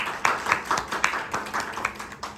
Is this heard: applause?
yes